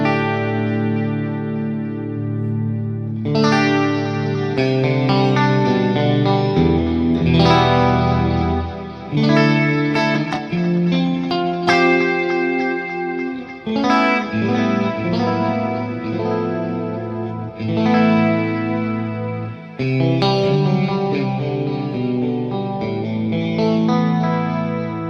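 Music runs through a micro pitch and Schmo plugin combination, giving a chorused, doubled, effects-heavy tone with repeated phrases and strong sustained notes.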